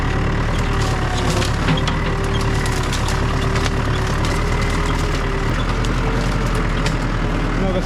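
A vehicle drives onto a fire road on an abandoned farm in Central Portugal, amid cleared eucalyptus. A steady low engine rumble under broad, even road noise runs throughout, with no talk.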